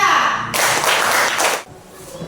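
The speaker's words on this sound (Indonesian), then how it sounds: "tepuk tangan dulu untuk kelompok 3" A class of students applauds group 3 after their presentation in a classroom, a dense burst of clapping lasting about a second, preceded by a brief voice and fading into quiet room noise.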